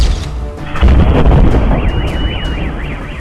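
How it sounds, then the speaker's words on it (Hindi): A loud explosion rings out over a city under bombing at night, a heavy boom followed by rumbling debris and a wavering siren-like tone behind it. "बहुत तेज धमाका हुआ"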